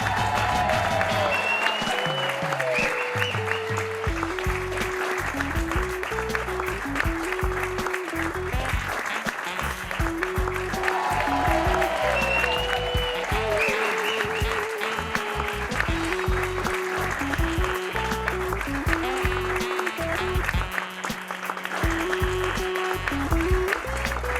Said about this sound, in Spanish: Pido un fuerte aplauso, por favor, para Freddy Bombazo